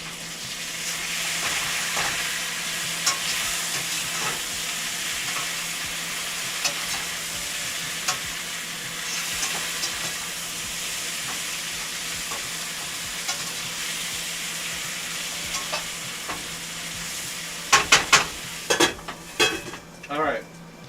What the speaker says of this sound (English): let's turn our potatoes again